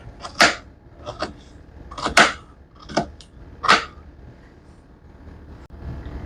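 A knife slicing guava pieces for a fruit salad, a series of about six separate crisp cuts at an uneven pace, close and fairly loud, with no talking.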